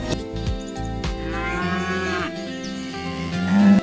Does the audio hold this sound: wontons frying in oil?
no